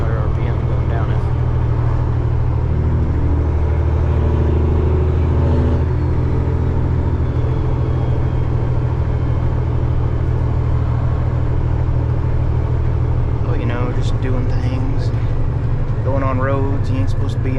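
A truck engine hums in 7th gear at 1,700 RPM while the truck runs downhill on a scenic road. A steady, loud low drone fills the whole stretch from inside the cab, and someone talks over it.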